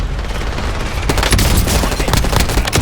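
An explosion lands right on the player in the shooter Warzone amid heavy gunfire. Sharp, loud blasts and rapid impacts crack through a constant roar of battle, with no voices.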